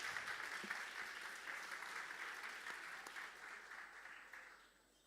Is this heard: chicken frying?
no